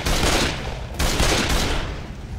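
Rapid bursts of gunfire in the video game Left 4 Dead crackle in dense volleys, loud and close, with a brief break before another burst starts.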